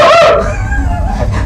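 A man imitates a call to summon dogs, one loud, high, wavering dog-like cry that trails off into a fading whine.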